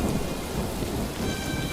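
Heavy rain pours steadily in an animated scene, with a deep rumble of thunder rolling underneath, dense and loud throughout with no voices.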